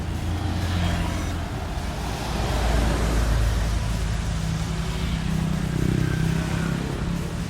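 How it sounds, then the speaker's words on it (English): Steady motorbike and car traffic on a rainy-season street in Pattaya, Thailand, a continuous close rumble of engines passing without talk. "So many motorbike stop here."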